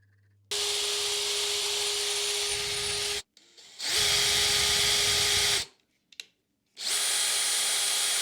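A drill bores a hole in brass for a steam engine valve, three loud steady whining runs of a few seconds each separated by short silences, close and with no talk.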